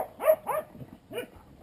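A hunting dog barks outdoors, three sharp yelping barks in quick succession, two close together and a third after a pause, fairly near with no talk.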